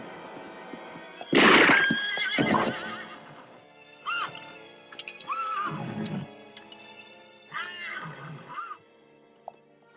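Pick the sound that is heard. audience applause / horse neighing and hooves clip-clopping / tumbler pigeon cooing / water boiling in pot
horse neighing and hooves clip-clopping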